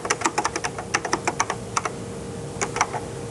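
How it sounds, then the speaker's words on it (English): Rapid, crisp keystrokes on a 1982 Xerox Star computer keyboard, typed up close in quick irregular bursts with a short pause before a final few clicks. "I can point at any place and start typing"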